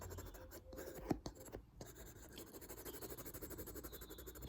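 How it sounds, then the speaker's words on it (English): A pencil sketches a portrait quickly on paper, faint scratchy strokes in steady rapid rhythm with a few brief gaps and small taps, quiet and close. "You can see I'm sketching in quite quickly."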